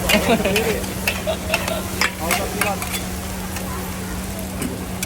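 Makassar-style red fried rice, nasi goreng merah, is stir-fried at a street food stall. Steady close sizzling runs throughout, with repeated scraping and clanking stir strokes over a constant burner hum.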